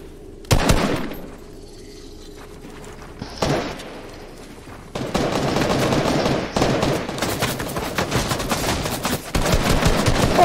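Loud video game gunfire in a Fortnite box fight comes in sharp single shots and then dense, sustained automatic bursts, close and dominant through most of the clip.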